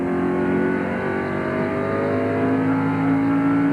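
A NASCAR Busch Series race car at the Milwaukee Mile, heard from an onboard camera, roars steadily at high revs, a loud, close, continuous engine drone throughout.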